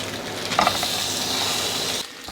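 Loud, hissing sizzle of salmon frying in a hot pan, steady throughout with a brief crackle burst, then fading at the end.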